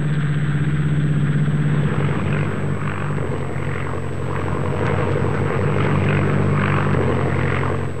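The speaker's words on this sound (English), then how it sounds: "That's why a tow plane is used." A steady tow plane propeller engine drones continuously at close range, loud and unbroken throughout, with no voices.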